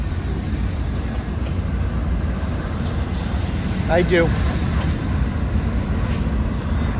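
Freight train B-101, hauling many refrigerator cars, rumbles past on the line in Royalston, a loud, continuous low roar up close, with a brief spoken reply over it.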